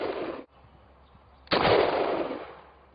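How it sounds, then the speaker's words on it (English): A 12-gauge shotgun fires birdshot at flashlights from about 15 meters: one sharp, loud blast followed by a long rumbling echo, with a clipped tail of an earlier report at the start. "after that shotgun blast from birdshot at 15 meters"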